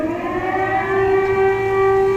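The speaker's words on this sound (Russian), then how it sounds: "Сирена." A loud siren holds one steady, continuous wailing tone for the whole stretch, close and unbroken, with no voices over it.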